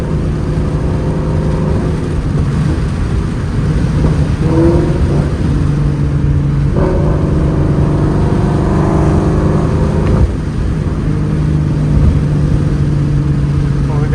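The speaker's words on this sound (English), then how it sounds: "That Burble tune's crazy." A Ford Mustang GT 5.0 with straight-piped exhaust and a burble tune rumbles loudly from inside the car, a deep steady drone with occasional throttle swells and a voice talking briefly.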